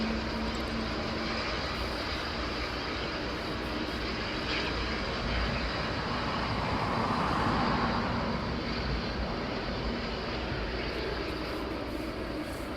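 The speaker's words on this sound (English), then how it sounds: "Lovely sound of those engines starting up." Jet engines spool up at East Midlands Airport, a steady, loud broadband roar with a rising whine that swells around the middle and holds, heard from a distance with no talking.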